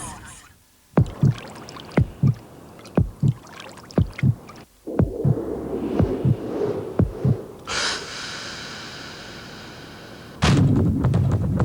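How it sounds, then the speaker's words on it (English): A deep heartbeat thumps in a steady rhythm, loud and close, in a Ford TDCi diesel car advert. Other low rumbles run beneath it and a broad whoosh swells near the end. "The loudest noise you'll hear will be your heartbeat."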